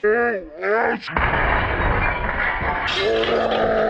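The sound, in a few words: glass turtle tank shattering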